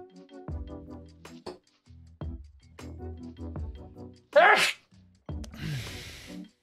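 A single sharp sneeze bursts out midway through a stretch of talking, louder than the surrounding voices, during a miniature painting session on Marines figures, followed by a brief breathy noise.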